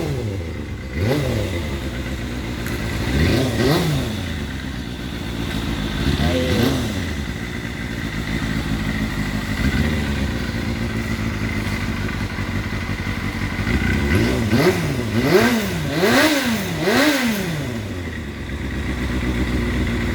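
A custom old-school motorcycle engine revs repeatedly in short bursts over a rough idle, loud and close, with someone talking briefly between throttle blips.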